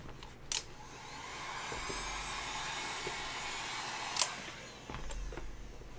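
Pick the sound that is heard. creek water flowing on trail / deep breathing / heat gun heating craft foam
heat gun heating craft foam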